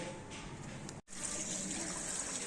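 Water pours out of a tank through a burst valve in a parking area, a quiet steady rushing gush with a brief break partway through.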